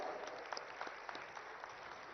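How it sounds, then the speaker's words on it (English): Audience applause welcomes the Chief Minister at the BioAsia 2026 inauguration in Hyderabad: a steady, dense round of clapping with sharp individual claps, sustained evenly from start to finish. "let us welcome him with a huge round of applause"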